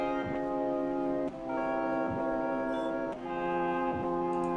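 A sample of Just a Kiss by Nekomata Okayu with a half-time effect: slowed, stretched-sounding loop with a deep, dragging tone, pulsing in slow beats with sustained low notes between them.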